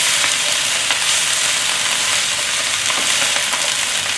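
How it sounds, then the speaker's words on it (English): Kale stir-frying with ginger and garlic in a hot pan gives off a loud, dense, continuous sizzle, close up, with a few faint scrapes of stirring and no voices. "So we're gonna stir fry the kale first"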